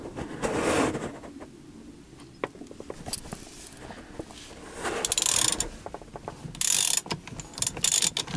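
A socket wrench ratchets on the steering wheel of a Porsche 944, giving a quiet series of small mechanical clicks in bursts, close by, with handling noises between them.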